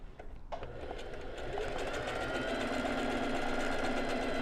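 A domestic sewing machine runs continuously while embroidering a flower design with straight stitch only, its motor whirring and needle clattering in a steady, close, loud drone that builds slightly in speed.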